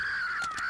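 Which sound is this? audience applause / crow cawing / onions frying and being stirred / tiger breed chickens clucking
crow cawing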